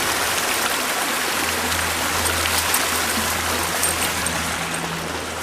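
Cold stream water flowing steadily on a woodland hiking trail, a continuous broadband wash and trickle that stays even and close throughout.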